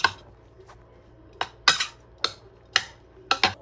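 A utensil clinks and scrapes against a bowl while furikake is stirred into sushi bake ingredients: about eight distinct, close, bright clinks in an irregular rhythm, with quiet pauses between them.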